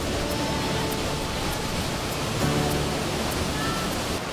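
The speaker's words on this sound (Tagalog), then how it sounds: "10 feet ang taas ng talon at ang tubig sadyang napakalinaw" Steady roar of a waterfall in Biliran, about ten feet high with clear water, a dense continuous rush of falling water close by with no voices.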